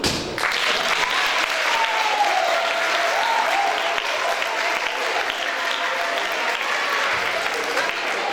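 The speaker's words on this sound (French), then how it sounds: "Applaudissements chacun" Sustained audience applause at a French-language school festival, a dense steady wash of many hands clapping throughout, loud and even, with a faint melodic line briefly audible beneath it.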